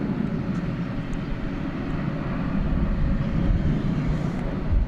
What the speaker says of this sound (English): off to Las Vegas goes flight 1771. It's an Airbus A321.